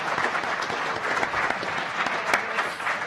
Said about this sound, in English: could we please give a great big round of applause for our amazing panel